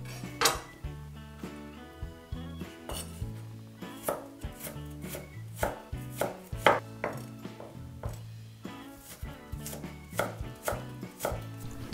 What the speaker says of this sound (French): Je coupe 4 fines tranches de gingembre. Je les émince finement.